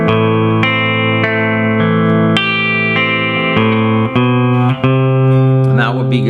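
Electric guitar playing a section of a song, ringing picked notes that change steadily about every half second, loud and sustained with a slightly driven tone and no talk.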